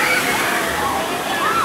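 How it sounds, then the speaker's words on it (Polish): Water falls and splashes continuously at a water park, a loud, steady rushing cascade heard up close with no pauses. "A no tak, woda tu spada co ileś..."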